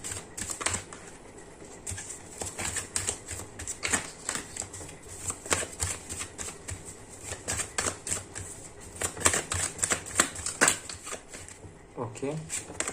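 Tarot cards are shuffled, drawn and laid out on a surface, giving a steady stream of soft flicks, slaps and rustles close by, with a person talking over them throughout.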